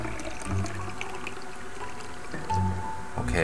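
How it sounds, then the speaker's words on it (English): Dark red wine pours from a small silver spigot in a wine cellar in a game, a short liquid splashing and trickling stream with drips that swells near the end. "Open the spigot and a stream of dark red wine begins to pour out."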